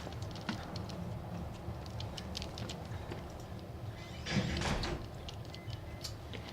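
A door opens in the horror video game Outlast, a faint, brief burst of creaking and scraping partway through, set against a low, steady ambient hiss.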